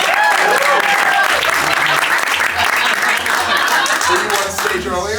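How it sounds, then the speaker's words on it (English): Audience at a live magic show in a Chicago lounge breaks into loud, sustained applause with scattered cheers and laughter, the clapping steady throughout and swelling slightly near the end. "one more round of applause"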